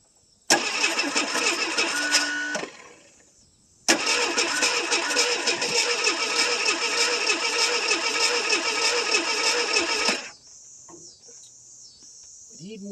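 A 1979 Ford Fairmont that has sat parked for about 23 years cranks hard and does not start, with two long bursts of rapid, rhythmic starter churning separated by a short pause, then a faint hiss.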